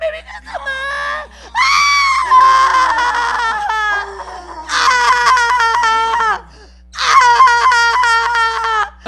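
Goats, including baby goats, bleat loudly and close by in long, wavering, strained cries, four drawn-out calls separated by short pauses.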